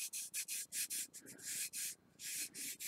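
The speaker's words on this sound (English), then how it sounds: "we're just going to burnish this in" Glitter being burnished onto a craft wand by hand, heard as a quick series of close, rhythmic rubbing strokes with brief pauses between them and no voices.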